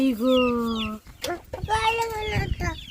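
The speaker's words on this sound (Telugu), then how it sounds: "కోడిపిల్ల చూడు కోడిపిల్ల చూడు" Chickens cluck and chirp close by, with high drawn-out calls and short peeps, while a person talks over them.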